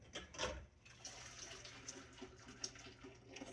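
Hot water from boiled broccoli poured from a pot into a container, a faint splashing gush that swells early then settles into a quieter trickle.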